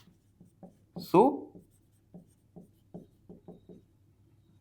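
Pen or chalk strokes on a surface while working a math solution by hand, a series of short scratchy marks in an uneven rhythm, close and fairly quiet, with one brief spoken word among them.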